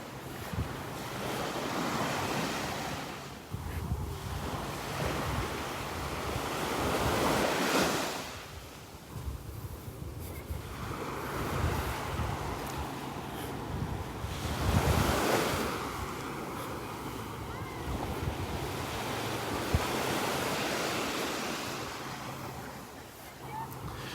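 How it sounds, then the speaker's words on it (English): Ocean surf breaking on the beach at Delnor-Wiggins in the morning, waves rolling in and washing up in slow swells with steady wind noise buffeting the microphone throughout. "No better place to be in the morning than walking the beach."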